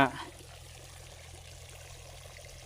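Water is poured steadily as lime is mixed into rusty, yellowish well water, giving a continuous soft trickling wash after a brief louder splash at the start.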